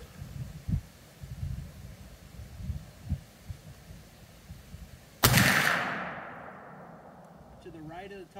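A single loud, sharp blast from a Traditions Buckstalker XT muzzleloader rifle at the range booms and rings out to a fading tail. Quiet low thumps and handling noise come before the shot, and faint voices follow.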